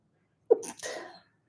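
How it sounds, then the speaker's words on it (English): A single close sneeze, a sharp intake followed by a forceful burst, then quiet. "Excuse me, I think I might have to sneeze."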